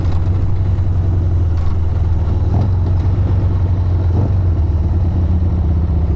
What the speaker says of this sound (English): You can rev it right up and then let off the throttle.